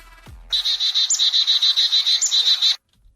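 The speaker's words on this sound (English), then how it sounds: "That's a Carolina chickadee right there." Recorded song of a Carolina chickadee played back, a loud, close, rapid run of evenly repeated clear whistled notes lasting about two seconds before stopping abruptly.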